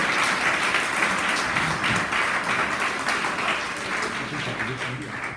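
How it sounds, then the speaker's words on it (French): Students and guests clapping at a school anti-bullying association launch ceremony, a sustained crowd applause that slowly tapers toward the end. "On applaudit très fort pour elle."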